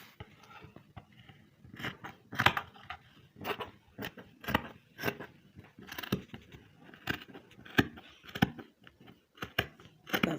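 Scissors snip through fabric being cut out for a pencil gown, a quiet, close series of irregular crisp clicks and rustles with short pauses between cuts and no talk.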